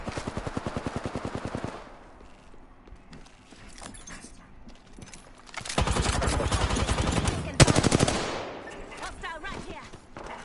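Rapid automatic gunfire in the battle royale game Apex Legends, loud bursts at the start and again in a dense stretch near the end, with quieter scattered shots between and a voice faintly under the fire.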